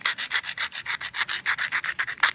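Rhythmic rough scraping as the cortex of a small stone nodule is scuffed, about a dozen quick close strokes in a steady back-and-forth pattern with no talking.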